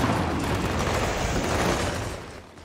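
Heavy shotgun blasts in the video game Gears of War 4 on PC, loud booming shots in a dense cluster amid combat noise, fading out over the last half second.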